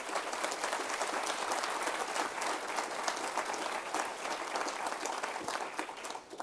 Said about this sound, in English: Can we have a really good round of applause for Anthony and his wonderful work?